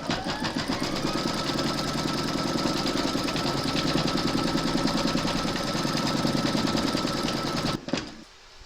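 An embroidery machine stitches a placement outline for batting on a mermaid and dolphin appliqué, its fast needle hammering in a steady, close, loud rhythm before stopping abruptly near the end.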